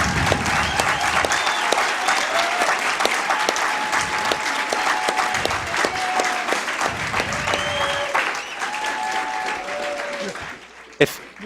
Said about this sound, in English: that's called clapping.